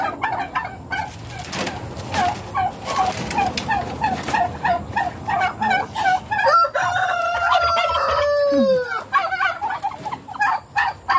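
Loud, close gobbling from several turkeys on a farm in rapid bursts, overlapping calls with a high bubbling trill near the end, no talking.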